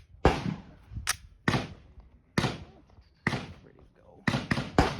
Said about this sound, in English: shooting the H&K Mark 23 here, first time.